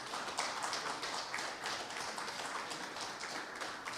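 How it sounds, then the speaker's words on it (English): Audience applause at a Saint Lucia media honors recognition ceremony, a steady, dense wash of many hands clapping throughout, moderately distant with no voices. "I want to ask you to keep clapping for our sponsors"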